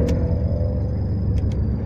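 A 1993 Nissan Tsuru engine with a damaged TPS signal idles at lowered revs with the headlights switched on, a steady close low rumble with a faint whine and brief clicks, no voices.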